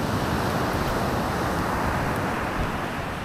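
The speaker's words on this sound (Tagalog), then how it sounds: "Lakas ng alon dun." Strong ocean surf rolling onto a beach at Casiguran, a steady loud roar of breaking waves mixed with gusting wind buffeting the microphone, continuous and close with no pauses.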